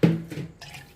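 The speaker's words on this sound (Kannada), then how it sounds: "ಸ್ವಲ್ಪ ನೀರು ಹಾಕ್ತೀನಿ ರೀ" Water is poured briefly into milk for tea in a home kitchen, a short close splash and trickle lasting under a second.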